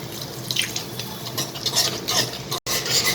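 A white sauce of milk being stirred in a pan over low gas, with rhythmic scraping and swishing strokes of the spoon that are close and fairly loud, broken by one brief dropout.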